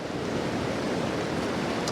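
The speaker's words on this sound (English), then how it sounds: "movement in the water as it's splashing about" Seawater splashes and churns among rocks around a wreck on the shore. The wash is steady and close, with no voices.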